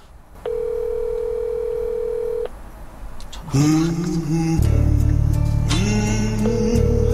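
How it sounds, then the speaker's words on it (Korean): Telephone tones while placing a call about a used-car financing banner: a steady dial tone for about two seconds, then a pause and louder ringing tones that continue to the end, with no talk. "그래서 여기 전화해보도록 하겠습니다."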